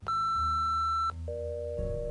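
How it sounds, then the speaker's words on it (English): Answering machine tone in a Nancy Drew mystery game: a single long electronic beep held for about a second, then a lower steady tone over a soft hum, clean and alone. "After the tone, please leave your name, phone number, and a brief message."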